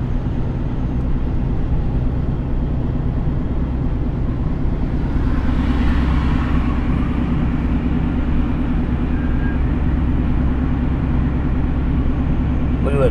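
Road traffic on the Verrazano Bridge heard from inside a moving car, a constant low rumble of tires and engine drone with a brief swell of a passing vehicle midway, steady and moderately loud.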